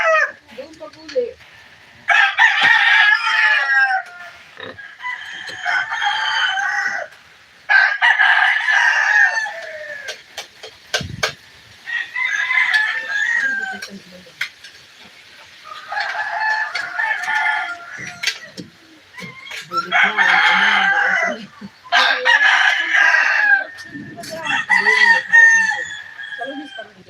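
Roosters crow repeatedly, several long calls spaced out with brief gaps, fairly close and loud, with clucking and some human voices in between.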